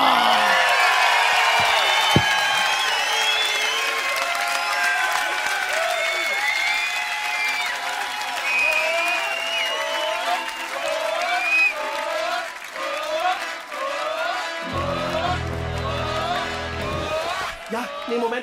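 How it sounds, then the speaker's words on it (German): A large stadium crowd in Dortmund applauds and cheers for a comedian's entrance at a live stand-up show, loud continuous clapping with whoops and shouts layered throughout, ending with a low rumbling swell. "Begrüßt bitte mit gebührendem Applaus die Vuvuzela der deutschen Comedy."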